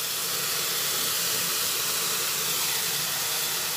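Chhana pieces sizzle in a hot pan, giving a steady, loud, broadband hiss that holds without a break from start to finish.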